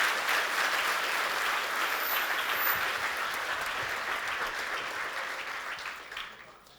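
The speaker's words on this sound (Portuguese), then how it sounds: "Aplauda ao Senhor." Steady audience applause at a church sermon, a full crowd clapping continuously at close range and fading slightly toward the end.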